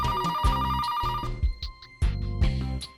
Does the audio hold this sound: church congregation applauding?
no